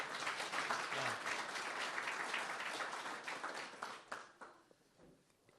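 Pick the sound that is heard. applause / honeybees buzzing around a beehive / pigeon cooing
applause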